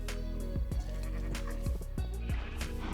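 Sheep in a Minecraft FTB modded game bleat in several short, loud, wavering calls in quick succession, with no talk over them.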